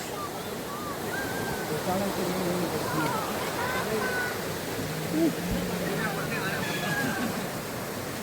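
Abbi Falls in Sakleshpura roars as a broad, continuous rush of falling water, with people talking and murmuring faintly over the steady flow.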